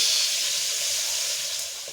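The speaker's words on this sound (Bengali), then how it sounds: "এখানে ইলিশ মাছ ভাজা হচ্ছে" Hilsa fish frying in a pan makes a brief, steady hiss of hot oil, close and even, fading slightly at the end.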